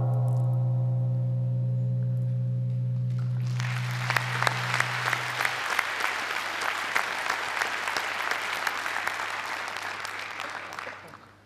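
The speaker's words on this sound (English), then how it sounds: "Big applause." At a startup awards event, a sustained electronic tone fades out as an audience bursts into lively applause, dense clapping that carries on for several seconds before tapering off at the end.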